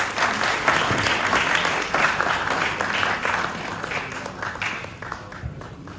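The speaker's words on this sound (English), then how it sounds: "Please, let's give him a round of applause." A crowd applauds at a parliament event launching a democracy cup, dense steady clapping from many hands that slowly thins toward the end, fairly close and loud.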